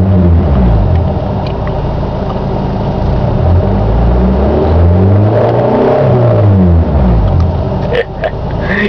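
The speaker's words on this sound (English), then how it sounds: "And for giggles, revving the expo." A Ford Explorer engine revs repeatedly in neutral, loud and close, its pitch climbing and falling in several sweeping surges with a steady rumbling idle underneath.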